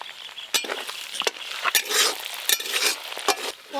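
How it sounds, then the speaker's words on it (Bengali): Catla fish fat frying in oil in a pan, crackling sizzle with repeated sharp metallic clinks and scrapes of a spatula stirring against the pan. "মাছের তেলটাও ভেজে নেব"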